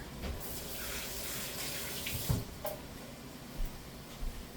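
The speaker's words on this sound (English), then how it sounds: "I'm gonna rinse my hands real quick." Tap water runs steadily into a kitchen sink while hands are rinsed, a continuous close splashing hiss with a few small knocks and splashes partway through.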